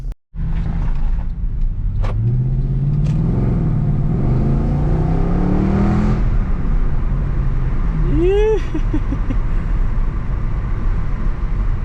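A Mercedes-AMG car engine drones steadily, pitch climbing as it accelerates, with road rumble throughout and a brief whine of shifting near the end.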